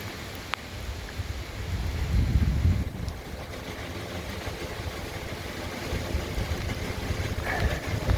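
Strong gusting wind buffets a Bergey Excel 15 wind turbine during turbulent remnant-hurricane weather, a steady broadband roar with a swelling gust and low rumbling hum throughout, no talk.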